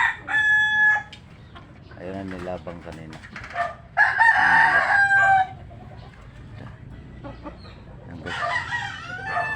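Fighting roosters (gamecocks) crow repeatedly, with three loud, near calls spaced across the stretch and clucking in between, while someone talks.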